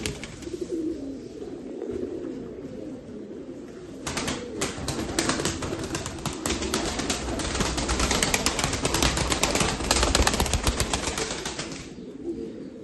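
Pigeons at a bird auction coo softly at first, then a burst of flapping wings and scuffling fills the middle for several seconds before fading back to quieter cooing and rustling.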